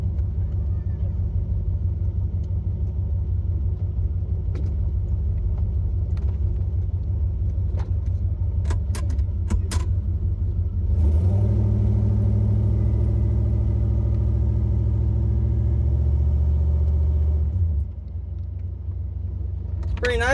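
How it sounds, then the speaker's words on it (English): A Chevy S10 pickup with a quiet exhaust rumbles low and steady while driving, its tone swelling louder partway through and then easing off near the end. "Pretty nice with a quiet exhaust."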